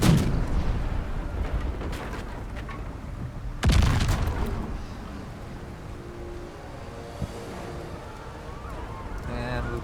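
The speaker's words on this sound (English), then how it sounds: "And we've got more airstrikes incoming." Airstrike explosions in Baldur's Gate 3, a deep booming blast at the start and another heavy boom midway, each trailing into rumbling debris over a low ambient drone, with no speech.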